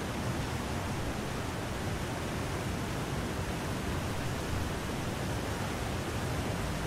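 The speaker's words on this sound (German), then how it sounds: "Noch ein Wasserfall." Waterfall roaring in the survival game The Long Dark, a dense, constant wash of rushing water that holds at an even loudness throughout, with no other sounds.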